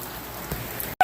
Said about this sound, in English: Seeing some rain today.